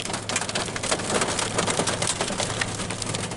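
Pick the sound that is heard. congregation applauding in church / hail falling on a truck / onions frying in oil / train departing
hail falling on a truck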